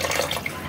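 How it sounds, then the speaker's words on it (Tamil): Water splashes and trickles in a bowl as anchovies are washed one by one, a brief, close, steady watery sound with no voices. "ஒன்று ஒன்றா கழுவி கழுவி கழுவி இந்த மாதிரி போட்டுக்கோங்க"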